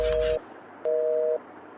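Two steady electronic beeps of a phone call disconnect tone, each about half a second long with a gap between them, clear and close on the line.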